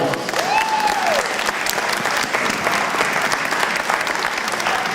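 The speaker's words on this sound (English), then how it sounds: "Round of applause for that one." Audience applause at a martial arts demonstration during a spring fair, steady sustained clapping from a crowd filling the whole stretch, with a brief whistle-like tone early on.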